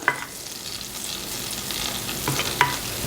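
About 2.5 tablespoons of butter melt in a frying pan still holding traces of fried onion and peppers, giving a quiet, steady sizzle that swells slightly, with a couple of sharp clinks of a utensil against the pan.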